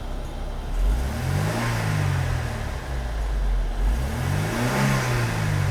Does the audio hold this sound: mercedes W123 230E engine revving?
yes